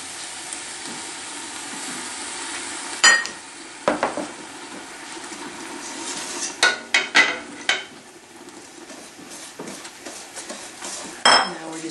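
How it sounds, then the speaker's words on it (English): A spoon stirs sugar into orange rhubarb jam in a cooking pot, scraping steadily with a run of sharp clinks against the metal sides over a soft simmering hiss. "Just going to stir that sugar in, let it come to a rolling boil again."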